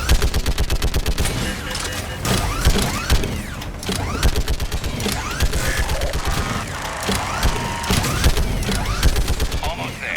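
An AA gun fires in the Mass Effect 3 video game, a long, loud, rapid stream of mechanical shots with clanking ratchet-like action, close and continuous throughout.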